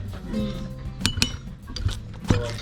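Chili paste for Nam Prik Ong, a Northern Thai spicy dipping sauce, being smashed with a pestle: a few sharp knocks and clinks among soft grinding scrapes, close and moderately loud.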